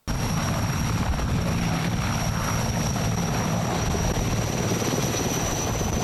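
A 90-foot-long, 9,000-horsepower helicopter's loud, steady rotor and engine drone fills the whole stretch, close and unbroken.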